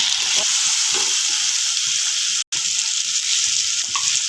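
Chopped tomato frying in a pan for tomato rice gives a constant, close hiss and crackle, with soft stirring scrapes underneath and a brief break partway through.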